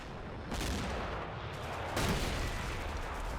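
Gunfire in a turn-based war video game: bursts of shots rattle out around half a second and again near two seconds, over a steady background, with no voices.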